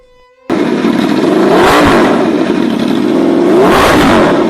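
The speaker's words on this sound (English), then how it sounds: "The V4 makes pretty much every crazy sound you could expect a motorcycle to make." A V4 motorcycle engine revs hard after a quiet start, roaring loud and close with two rising and falling swells and a raspy, burbling edge.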